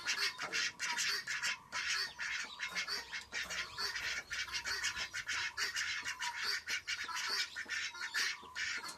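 A flock of ducks quacking and squabbling continuously, dense overlapping calls in rapid bursts, close and lively, with no voices.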